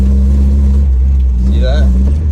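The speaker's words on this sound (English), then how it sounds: "This is the fuel cut issue I was having earlier." Nissan 240SX engine with a fuel cut issue, a loud low droning hum that stumbles and wavers midway, with a voice briefly talking over it.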